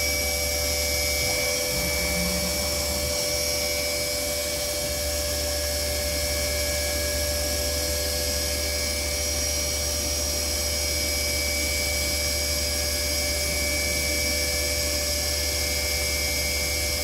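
Spindle of a Milltronics RW 20 CNC mill running steadily at 4400 RPM, giving a sustained high-pitched whine over a low machine hum that stays even and continuous throughout, with no voices.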